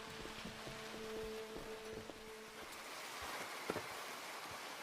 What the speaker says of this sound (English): Come on, it's raining.